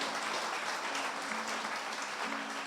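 A church congregation applauds steadily throughout, a dense and fairly even wash of clapping heard from within the room without any talking.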